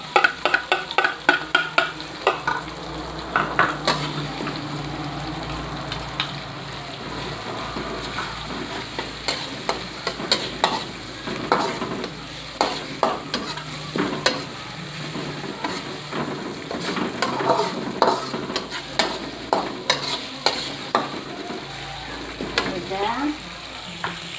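Ground spice paste stir-fried in a pan while galangal fried fish is being made, with a steady loud sizzle broken by repeated scraping strokes of a spatula, continuing for the whole stretch with no talk.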